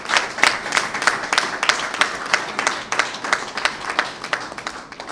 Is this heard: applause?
yes